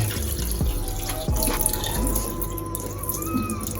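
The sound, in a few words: tap water rinsing meat in a bowl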